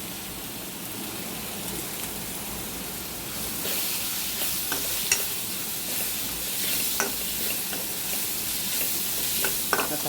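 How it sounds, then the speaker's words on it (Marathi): Potato masala with curry leaves and turmeric fries in a pan, a continuous crackling sizzle that grows louder partway through, with repeated close scraping strokes of a spoon and no voices. "आता हा आपला आलूचा मसाला चांगला तळून द्यायचा।"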